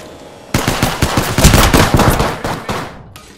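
Loud, close automatic gunfire in the video game Apex Legends, a sustained rattling burst of rapid shots lasting nearly three seconds with slight pauses in the rhythm, no voices.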